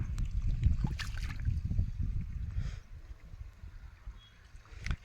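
Water flows into a tobacco field during morning irrigation, a soft gurgling trickle with low rumbling splashes that quiets after a few seconds.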